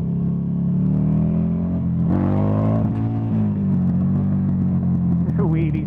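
A Buell XB9SX motorcycle engine drones loudly while riding, a steady low rumble that rises in pitch as it accelerates, with wind noise and a voice talking over it.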